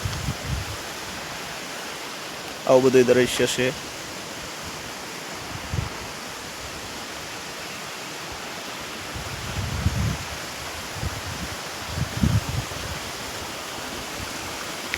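Water flows past near the Bileshwar Dham temple as a steady broadband rushing wash, constant and moderately loud, with a short spoken phrase early on and a few faint low thumps.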